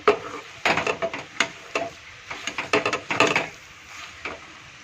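A spoon scrapes and knocks against a pan while stirring a coconut laddu mixture with crushed cardamom, giving irregular close clacks and scuffs in quick clusters with brief pauses.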